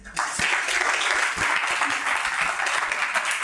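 Audience applause at a book signing for the book Diariétou et Josué, a dense steady crowd clapping that sustains evenly and loudly throughout, with some speech faintly mixed in.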